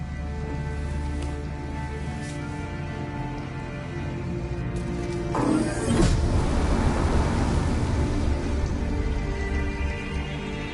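Heavy rain pours steadily beside a stopped bus, a continuous hiss of drops hammering surfaces over a low engine rumble, swelling louder midway as the downpour intensifies.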